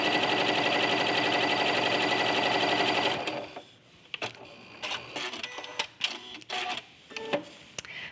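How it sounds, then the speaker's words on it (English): A sewing machine stitches quilt pieces together with a 1/4 inch seam, running as a steady loud whir for about three seconds, then stopping, followed by scattered clicks and handling noises. "sew it together with a 1/4 inch seam allowance"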